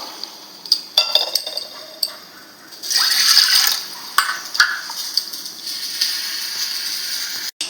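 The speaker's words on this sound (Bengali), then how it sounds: "কুকারে যতটা চাল ডাল সবজি দিয়েছি তার ডবল জল দেবো" Water poured into a pressure cooker holding rice, lentils and vegetables for khichuri, a splashing, liquid pour that swells midway, with light clinks of metal and glass around it and no talking.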